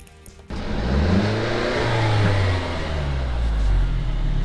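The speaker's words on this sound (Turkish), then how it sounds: "Bir de senin arabanın ses duyabilir miyiz?" A Mercedes engine catches after a brief quiet moment, then runs loud and close with rising and falling revs, its low droning harmonics sweeping up and down; no one speaks over it.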